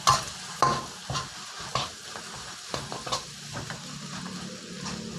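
Rice noodles are stir-fried with blanched greens in a hot pan, giving a soft sizzle under frequent spatula clacks and scrapes that come in quick bursts, then settle into a quieter fry.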